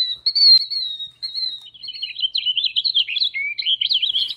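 Bird song played back from a small backyard-birds sound book: a steady run of high chirps and whistled warbling trills, continuous and fairly loud, with no voices.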